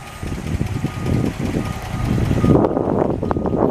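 A 1957 Ford Thunderbird with its 312 V8 and stock exhaust runs at a fairly quiet idle, a close, low rumble with a steady pulsing chug and some brief higher clicks toward the end.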